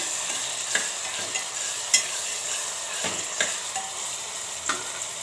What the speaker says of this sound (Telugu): ఇప్పుడు వీటిని కొద్దిగా వేయించుకోవాలి.